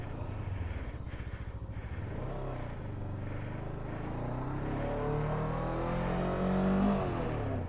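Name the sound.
Kove 500 adventure motorcycle engine revving, stuck in sand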